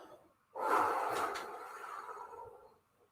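A person imitates breathing through a labor contraction with one long, breathy exhale that starts abruptly, stays close, and fades out slowly, with no talk over it.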